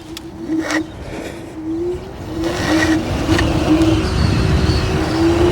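An Inmotion RS Midnight Lite electric scooter accelerates on dual motor, its motor whine steadily rising in pitch with some road and wind noise, close and fairly loud.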